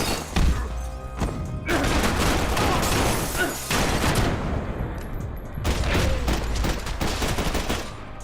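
Intense gunfire from a Max Payne 3 gunfight with a gore mod: loud, rapid bursts of shots crack and roar in dense volleys, pausing briefly before another barrage, with crashing impacts mixed in.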